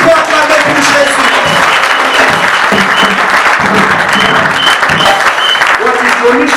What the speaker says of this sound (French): then you clap for Jesus